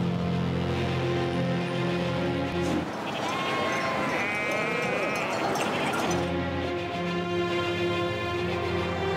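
A large flock of sheep bleats continuously, many overlapping calls close and loud over a steady low droning background.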